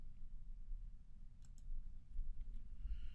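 A computer mouse clicks a few times while working in Marvelous Designer garment software; the clicks are soft, sparse and close over a quiet low hum, with no talking.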